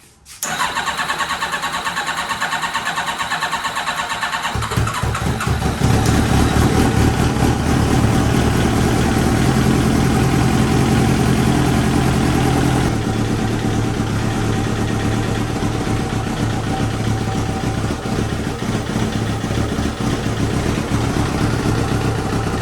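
Kawasaki Ninja ZX-7R motorcycle engine in a garage cranking and catching, then settling into a steady, loud low idle with a continuous rumble throughout.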